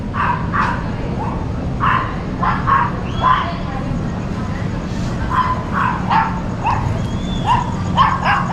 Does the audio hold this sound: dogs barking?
yes